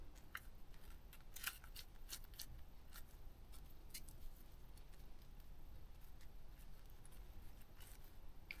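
Scissors snip through cardboard while shaping a bird tail for a craft, with scattered crisp cuts and short bursts of snipping over quiet room noise; nobody speaks.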